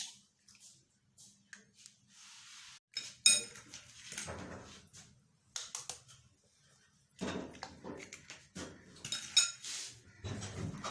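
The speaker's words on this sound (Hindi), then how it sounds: "ये जो मेरे पास 8 अंडे हैं इनको मैं तोड़ के इसमें डालती जाऊँगी" Eggs cracked one after another into a blending jar already holding sugar, with sharp clinks and taps of shell against the jar coming in scattered bursts and quiet gaps between.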